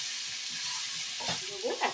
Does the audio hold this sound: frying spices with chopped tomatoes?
yes